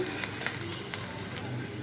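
A continuous crackling sizzle of onions, chili and garlic frying in a pan, close and fairly even, with faint scattered pops.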